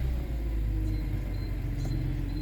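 A BMW E46 M3 coupe with a manual gearbox idles nearby, giving a low, steady, smooth engine rumble that holds constant and quiet throughout with no voices.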